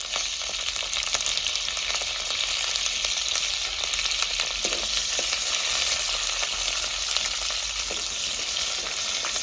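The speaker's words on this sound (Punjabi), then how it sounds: "ਤੇਲ ਆਪਣਾ ਗਰਮ ਹੋ ਗਿਆ ਜਿਹੜੇ ਆ ਪਿਆਜ਼ ਰੱਖੇ ਤੇ ਆਪਾਂ ਪਿਆਜ਼ਾਂ ਨੂੰ ਫਰਾਈ ਕਰ ਲੈਨੇ ਆ" Onions frying in hot oil on a stove, a steady dense sizzle and crackle throughout with occasional stirring scrapes, no voices.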